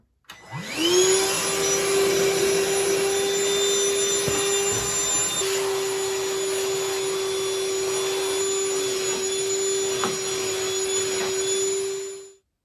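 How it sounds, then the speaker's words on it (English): A vacuum cleaner picking up sanding dust from a floor starts up with a rising whine, runs at a steady loud hum for about ten seconds, then powers down. "it's time to vacuum it up."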